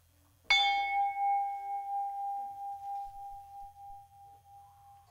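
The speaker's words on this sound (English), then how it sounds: "As I ring the bell" A single bell is struck once during a church meditation service, giving a clear bright strike that rings out with a long, slowly decaying pure tone over several seconds, alone without speech.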